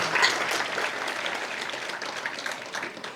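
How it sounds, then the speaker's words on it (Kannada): Loud, sustained applause from students and guests fills a school hall during a Saraswati Puja and uniform distribution event, a dense wash of clapping that eases slightly toward the end. "ಜೋರು ಚಪ್ಪಾಳೆಯೊಂದಿಗೆ"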